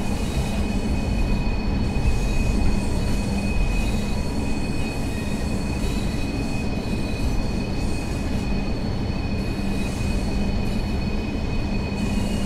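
A Class 142 Pacer diesel railbus in the Train Sim World 3 video game rumbles along continuously with a steady engine drone, wheel noise and a high squealing tone, loud and unbroken throughout.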